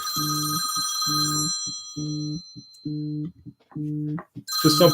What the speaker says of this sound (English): I am apparently going to have to jump off here and take this phone call